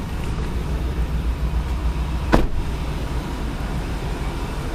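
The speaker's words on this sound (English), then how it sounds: "Next thing we're gonna do, pop the hood." A truck's hood latch pops open with one sharp clunk partway through, rising over the steady rumble of the idling engine during a pre-trip inspection.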